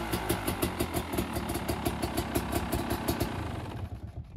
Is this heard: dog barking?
no